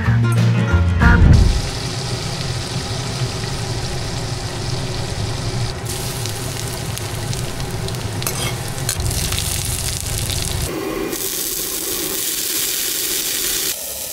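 Mushrooms frying in a pan, a steady loud sizzle and crackle lasting throughout, with stirring clatter near the start and shifts in intensity partway through.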